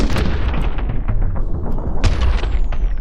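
A grenade blast in the action game My Friend Pedro: a loud, close boom that rumbles on, with a second sharp burst about two seconds later, then a high ringing tone trailing off behind it.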